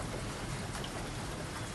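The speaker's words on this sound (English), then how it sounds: "what I'm doing right now is I'm just waiting for the rain to stop" Rain falls steadily in a faint, continuous hiss with a few scattered drop impacts and nothing else over it.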